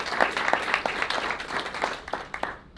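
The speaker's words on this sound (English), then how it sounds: "So let's give another final round of applause." Audience applause at a panel conversation on youth, technology and wellbeing, a steady wash of clapping from many hands with a few sharper claps standing out, continuing throughout.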